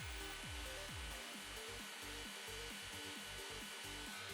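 Hot air plastic welding on a car bumper repair, with a steady loud blowing hiss of the hot air gun and repeated rhythmic scraping strokes from pressing the filler rod into the seam.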